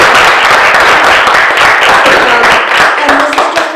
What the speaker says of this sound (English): want to give Ricky a round of applause